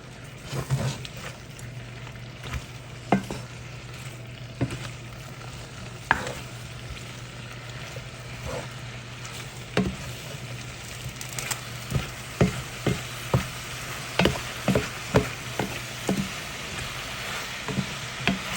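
Onions for pepper steak sizzle steadily as they fry in a pot, with a spoon repeatedly scraping and clacking against the metal in irregular, fairly close strokes.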